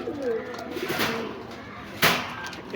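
A red-eyed golden male pigeon coos softly and close by at a pigeon shop, followed by a sharp knock.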